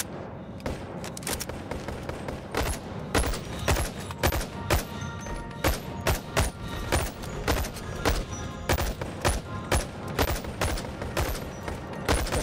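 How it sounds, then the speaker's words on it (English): Rapid bursts from an MP5 submachine gun in the VR game Boneworks, a long run of close, punchy shots in quick regular succession with short gaps between volleys. "This is an MP5, I believe."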